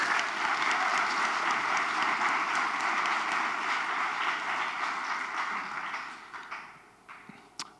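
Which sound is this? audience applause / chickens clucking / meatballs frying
audience applause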